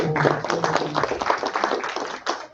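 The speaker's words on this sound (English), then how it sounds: "Please give them a round of applause." Audience clapping for panelists at an Islamic finance, banking and investment event, a dense, lively round of applause that holds steady and then tapers off slightly at the end.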